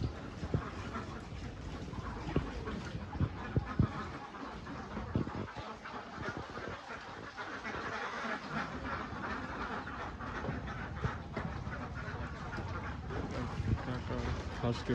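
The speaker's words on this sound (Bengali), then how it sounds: "কাকা হাঁসকে খাবার দিতেছে, হাঁসগুলো অনেক সুন্দর দেখতে পাচ্ছেন।" Khaki Campbell ducks on a farm crowd in at feeding time, a dense, continuous clamor of quacking and splashing that runs the whole stretch, with voices mixed in.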